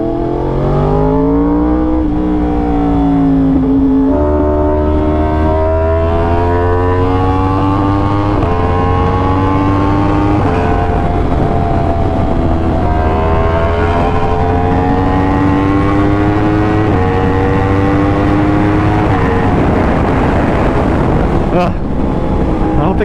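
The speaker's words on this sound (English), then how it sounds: "But I love the sound of this bike too much. I love how raw the R1 feels." A Yamaha R1 motorcycle engine revs repeatedly nearby, its pitch climbing and falling in several loud sweeps over a steady low rumble that stays strong throughout.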